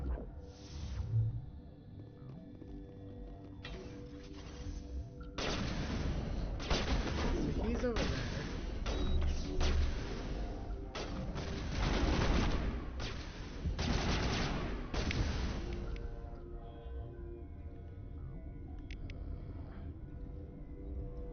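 Sustained gunfire in the Mass Effect video game, a firefight of dense, overlapping shots and bursts that swells after a quieter start, then fades back toward softer sounds near the end.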